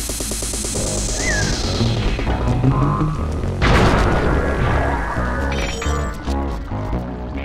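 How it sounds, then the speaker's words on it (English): A bomb blowing up a laser fence in Sly 2: Band of Thieves, with a loud booming blast in the middle of the clip amid heavy game noise and a whooshing fall before it, with no talk. "Press the triangle button to drop a bomb, and then get out of the way before it explodes."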